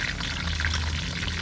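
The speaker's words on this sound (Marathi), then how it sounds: "भेंडी फ्राय बनवण्यासाठी आपण तेल टाकू याच्यात." Cooking oil poured into a pan for village-style bhindi (okra) fry, a steady soft liquid pour running close and unbroken for the whole moment, with no talk over it.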